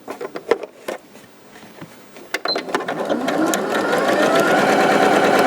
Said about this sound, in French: on va aller le coudre dans la rainure qu'on voit là